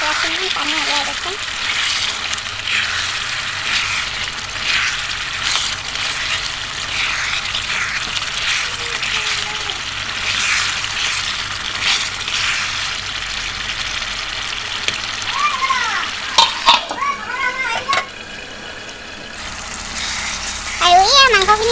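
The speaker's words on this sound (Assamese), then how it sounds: "নহ'লে তলত লাগি যাবগৈ সেইটো কাৰণে মাজে লৰাই থাকিব" Chicken curry meat is stirred in a cooking pot over a steady, close sizzling hiss, with brief clinks and scrapes near the end and a faint voice at moments.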